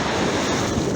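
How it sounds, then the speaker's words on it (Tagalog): Rough sea waves wash onto the shore on a cool, windy day by the water in Qatar, making a loud, dense roar of surf mixed with wind buffeting the microphone, steady throughout the short moment. "Medyo maalon yung dagat."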